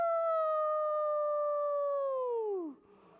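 A single long wolf-howl imitation sung by a voice at a preschool story time, a loud sustained tone that holds steady and then slides down and breaks off near the end.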